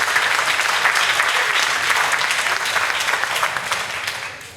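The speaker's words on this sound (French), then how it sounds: "je pense qu'il faut les applaudir" An audience applauds at an evening event honouring environmental change-makers, with dense, steady clapping that holds evenly and tapers slightly toward the end.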